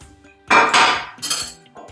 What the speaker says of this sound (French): On mélange tout.